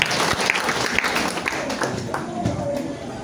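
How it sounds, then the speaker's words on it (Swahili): A crowd breaks into applause, a burst of scattered clapping that runs under ongoing talk and a noisy background. "makofi"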